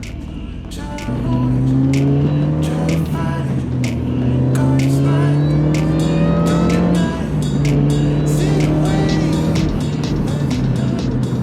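A Mini Cooper R53 drives under load with its engine note climbing steadily through the gears, each shift dropping the pitch before it rises again. Loud, close and continuous, with no talk over it.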